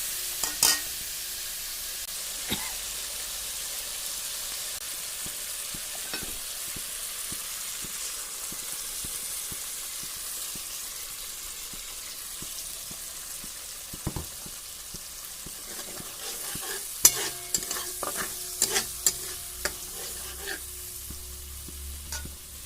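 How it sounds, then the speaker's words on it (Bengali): Spinach paste with spices, nigella seeds and dried chillies is stirred and fried in a pan, a continuous close sizzle broken by scraping strokes that grow busier toward the end. "কালো জিরে ও শুকনো লঙ্কা দিয়ে মশলাটাকে দিয়ে মশলাটা ভালো করে কষিয়ে নেব"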